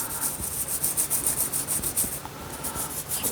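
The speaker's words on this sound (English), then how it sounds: "I want to clean off the trunks, get all this moss off it" Stiff scrubbing of moss off tree trunks, a steady rubbing, brushing sound that swells and eases in quick strokes, close and fairly loud throughout with no talking.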